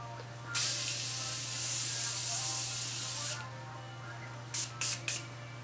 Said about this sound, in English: I'm gonna spray my skin with the Morphe Continuous Setting Mist